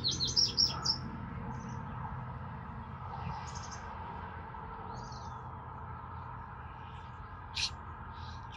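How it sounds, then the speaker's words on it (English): Birds chirp outdoors beside a garden, a few short bright calls at the start and scattered faint tweets later over a quiet low background hum. "Here are the birds."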